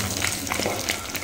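Chana dal and fennel seeds frying on a low flame in oil in a pan, a close, continuous soft sizzle with faint crackles, brief and steady, no speech.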